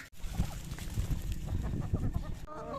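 Chickens cluck softly and steadily nearby in Mexico, a busy low chatter of farmyard fowl with no voices over it.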